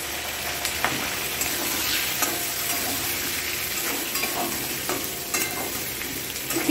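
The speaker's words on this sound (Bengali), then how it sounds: "এবার আমি যে আনাজগুলো সব ভেজে রেখেছিলাম ধুয়ে রাখা আছে এগুলো দিয়ে দিলাম" Fried vegetables tossed into a hot pan for chili chicken, giving a continuous close sizzle with scraping stirs and a few sharp clicks of utensil on metal, and a brief word spoken over it.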